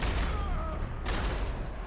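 Shotgun blasts in the video game Max Payne 3: two heavy, booming shots about a second apart over a dense, rumbling game soundscape.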